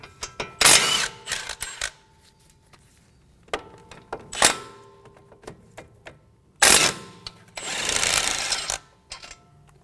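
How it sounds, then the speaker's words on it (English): A 17mm socket on a ratchet working the front brake caliper bracket bolts of a Mazda 3, with bursts of rapid clicking in irregular spurts and sharp metallic knocks between them, close and without speech. "Using a 17mm socket, we're going to remove the caliper bracket bolts."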